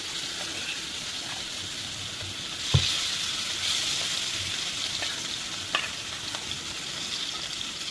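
Steady, close sizzling of rohu fish frying in hot oil, with a dense crackle throughout and a couple of sharper spatters and clinks partway through.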